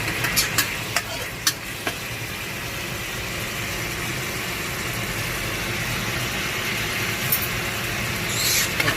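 Vegetarian crispy pork and holy basil stir-fry in a hot pan, giving a steady, close sizzle. A few sharp spatula scrapes and taps come at the start and again near the end, with no talking.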